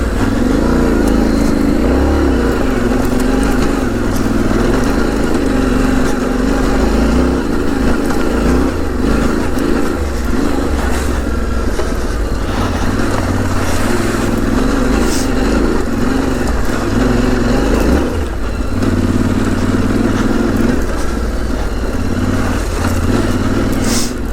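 A Yamaha Tenere 700 off-road motorcycle riding along a dirt track, its engine droning loud and steady throughout, with slight shifts in revs and no speech.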